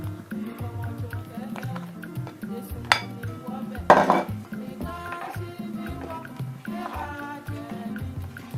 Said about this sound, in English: At this stage, you don't cream again, you just fold in the flour.